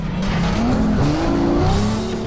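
Lamborghini Aventador tires squealing in a loud, sliding skid in NFS World, with a rising engine note over the wavering screech, up close and alone.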